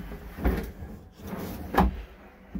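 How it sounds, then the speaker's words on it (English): A couple of wooden sliding thumps as a wardrobe drawer in a 2022 Chausson Titanium Premium 650 motorhome is pulled out and pushed back, close by with a soft rumble between. "with drawers that pull out from either side,"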